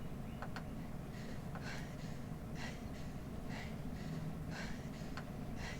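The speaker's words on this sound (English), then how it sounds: "Rey breathing heavy" Heavy, rhythmic breathing with repeated airy gasps and exhales over a low, steady rumble.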